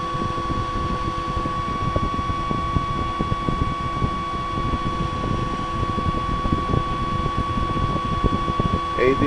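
A pulse motor generator runs steadily at close range, giving a continuous mechanical whir with a constant tonal hum and dense rapid ticking that holds even throughout.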